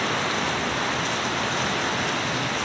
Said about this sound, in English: But the rain, oh my god